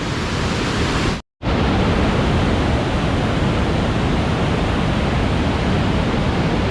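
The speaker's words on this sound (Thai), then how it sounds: "ยอดเลยพี่น้องน้ำตกตาดแซ่" Tad Sae waterfall near Xieng Ngeun, Luang Prabang, Laos, roaring as a steady broadband rush of falling water, close and loud, broken once by a very short gap.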